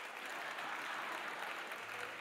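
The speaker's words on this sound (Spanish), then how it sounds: "Me encanta un aplauso." A live audience at a stage comedy show claps in a steady, fairly faint burst of applause that lasts a couple of seconds.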